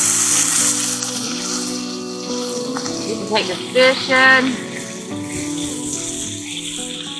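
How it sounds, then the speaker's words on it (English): Hot dogs frying and sizzling on a cooking surface outdoors at a beach campsite, a steady hiss running under intermittent nearby talk and occasional clatter. "Here it sizzling, guys."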